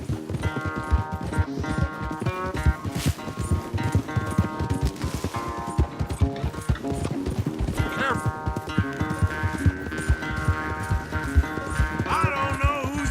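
Horses gallop hard in a race in the video game Red Dead Redemption 2, a rapid continuous drumming of hooves with snorts and harness rattle, under game music and brief spoken dialogue.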